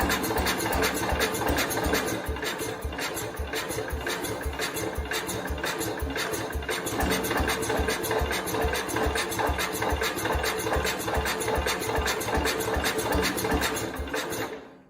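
Small engine of a Cub Cadet 105 lawn tractor running steadily and close, a continuous rapid chugging rhythm with a rough mechanical rattle over it, no talk.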